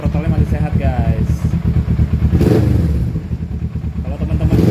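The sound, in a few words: Kawasaki ER6N 650cc motorcycle engine idling at steady RPM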